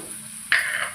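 Spices hit a hot pan with onion and tomato for a spicy vegetarian mutton-style curry, a sudden sizzle bursting in halfway through and holding steady after a quiet start.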